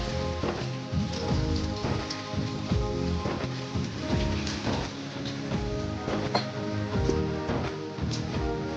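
Rainwater flowing into a harvesting tank, a dense, continuous patter and splash of falling water with scattered drips and a faint resonant tone, steady throughout with no talk.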